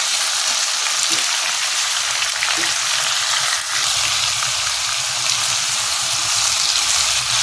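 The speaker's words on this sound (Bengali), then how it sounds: "এখন এগুলো ভালো করে আমাকে কষতে হবে" Puishak stalks and other vegetables sautéed in a pan for a vegetarian Bengali ghonto, giving a steady, loud broadband sizzle that continues evenly throughout with no talking.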